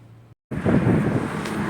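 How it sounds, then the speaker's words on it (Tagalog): Steady, loud wind noise buffeting the microphone, roaring broadband after a brief dropout, with no voices. "Lakas ng hangin."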